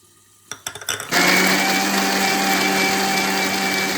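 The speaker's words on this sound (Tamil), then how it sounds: "தக்காளி 3 எடுத்து வச்சோம்னா அதை அரைச்சிக்கலாம்." A mixer grinder blends three tomatoes into a smooth paste for ennai kathirikai kulambu, a Tamil brinjal curry. A few short clicks and whirs come first, then the motor roars up to a loud, steady whine that runs without a break.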